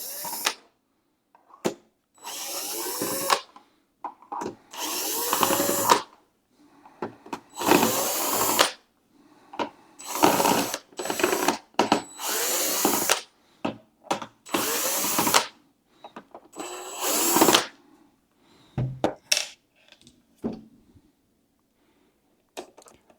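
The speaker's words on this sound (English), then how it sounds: "We're going to try a drill and gently unscrew." A cordless power drill whirs in short, repeated bursts while backing screws out of an elliptical exercise machine, close up, with quiet pauses and faint clicks between runs.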